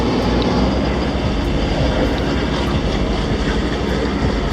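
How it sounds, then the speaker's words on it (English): A sailboat's engine running hard at night on calm water, a steady loud low rumble and drone that stays constant and close throughout, with no voices. "We may have to push the engine more."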